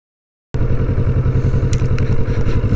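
A 2020 Kawasaki Vulcan S motorcycle's engine kicks in abruptly after a moment of silence, then rumbles close and loud with a pulsing, throbbing idle and a few light clatters on top.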